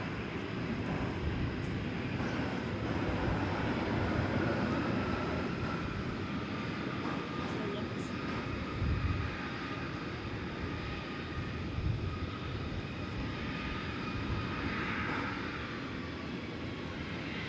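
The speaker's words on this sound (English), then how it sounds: "See a flight coming in from the ATL there in the foreground. It's an Airbus A321, American Flight" An American Airlines Airbus A321 airliner arriving at DFW airport makes a steady, broad engine rumble and roar that holds evenly throughout, moderately distant with no talk.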